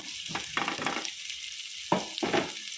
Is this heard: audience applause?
no